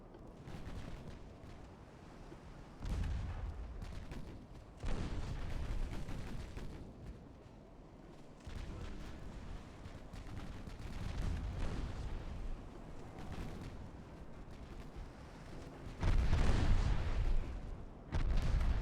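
Warship secondary guns firing in the naval game Ultimate Admiral: Dreadnoughts, a string of heavy booming shots at irregular intervals over a steady rumbling background, several loud blasts standing out, with no talking.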